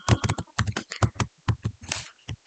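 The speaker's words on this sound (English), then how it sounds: "So let's type in the formula." Keys clatter on a computer keyboard as a formula is entered into a Google Sheets spreadsheet, giving quick, close clusters of clicks with short pauses, loud and clear with no voice.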